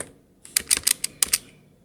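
Keystrokes on a computer keyboard, about eight quick taps in two short bursts after a quiet start, close and fairly crisp with no talking.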